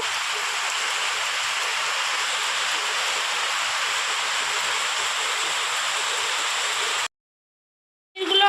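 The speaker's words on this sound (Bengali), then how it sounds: "ভীষণ বৃষ্টি পড়ছে জোরে জোরে বাইরে" Heavy rain roars in a steady, dense hiss for about seven seconds, then cuts to silence before a short burst of the downpour returns.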